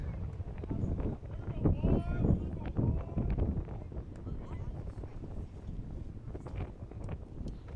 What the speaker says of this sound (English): Another big gust of wind.